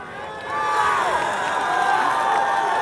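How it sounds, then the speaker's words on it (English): A high school student section cheers at a D2R6 championship football game, a sustained loud wash of crowd voices swelling after a quieter start and holding steady throughout. "Everybody cheering each other on in the student section."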